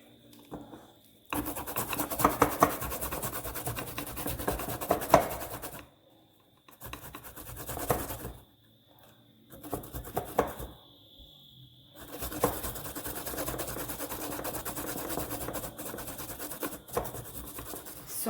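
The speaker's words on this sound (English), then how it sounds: "I'm going to go ahead and grate a piece of ginger" Fresh ginger, about a thumb and a half, rubbed by hand against a grater for a Jamaican sweet potato pudding, heard as close rasping strokes in several bursts separated by short pauses, with no talking.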